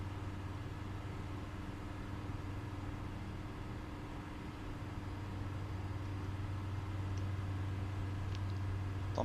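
The Rotax-style engine of an FSReborn TL3000 Sirius light aircraft in Microsoft Flight Simulator gives a quiet, steady low drone with a constant hum and faint background hiss, unchanging throughout and with no talking.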